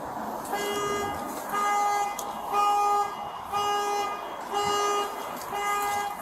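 Car horn sounding in repeated toots, five or six steady honks of about half a second each at a regular rhythm, fairly close and loud over a background of road noise.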